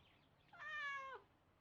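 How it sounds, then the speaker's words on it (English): A single cat gives one clear, drawn-out meow that rises and falls, heard alone against quiet background. "that's just a random cat"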